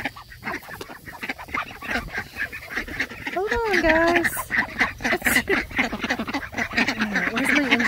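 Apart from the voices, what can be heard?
ducks quacking and crowding around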